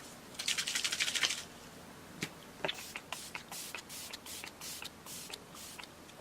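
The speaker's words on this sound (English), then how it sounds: "I'm going to drench myself in the Urban Decay All Nighter Setting Spray" A burst of fine misty makeup setting spray, Urban Decay All Nighter, hisses for about a second, followed by scattered light clicks and soft handling noises.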